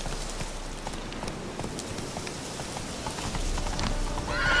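Horse hooves clip-clopping at a steady gallop in The Witcher 3, a dense, continuous rhythmic patter that grows slightly louder toward the end, with no voices.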